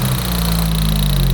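An 80s hot hatch barn find idles smoothly and quietly, a steady low engine hum with a constant whine, close by and alone without talk.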